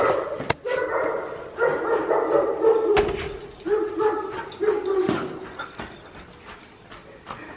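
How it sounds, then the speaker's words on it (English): Several dogs bark in quick bursts and whine in high, drawn-out tones, begging for food, close and overlapping, with a voice talking beneath. "All the dogs are begging Sophie to fish for them."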